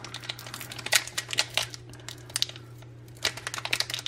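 A crinkly Pokemon card booster pack from the Evolutions set being torn open by hand, with irregular crackling crinkles and sharp rustles up close, pausing briefly midway over a steady low hum.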